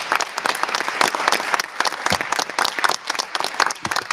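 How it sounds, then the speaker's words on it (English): A room of people at a Board of Education meeting gives school volunteers a round of applause, steady dense clapping throughout, fairly close and lively. "I just want to give all of our volunteers that are here tonight another round of applause"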